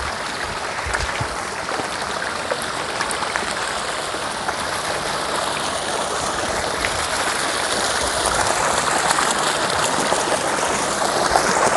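A water pump running in a biofloc fish pond, pouring and splashing water in a constant bubbling, trickling rush with scattered droplet patter, steady and fairly close, no talk.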